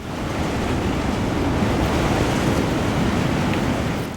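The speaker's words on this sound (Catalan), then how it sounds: "les onades eren altes, el vent bufava molt fort i hi havia tempesta" A dark, stormy sea with high waves and strong wind makes a steady, dense roar of surf and gusting air, continuous and loud throughout with no voices.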